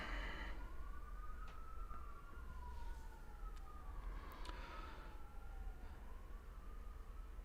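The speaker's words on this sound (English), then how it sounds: "let the sirens go by" Emergency vehicle sirens pass outside, a faint wailing tone rising and falling slowly in pitch over steady low background noise, distant and muffled as if heard from indoors.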